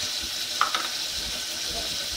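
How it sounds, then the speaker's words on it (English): Onions and ginger garlic paste frying in a pan give off a soft, steady sizzle, with a brief clink of a spoon stirring near the start. "Fry it a little and add the ginger garlic paste into it."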